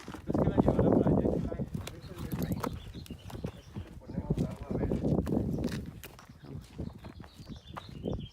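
A horse's hooves clop steadily on the ground at a walking pace, close by, with people talking over and between the steps.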